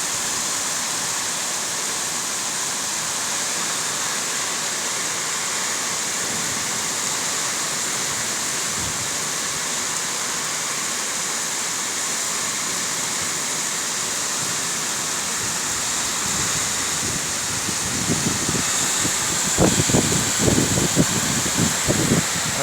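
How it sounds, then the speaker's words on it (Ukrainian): Dense, steady hiss of heavy rain pouring down, constant and broadband, with a few louder splashing bursts toward the end, during a downpour with distant lightning and strong wind. "це дощ."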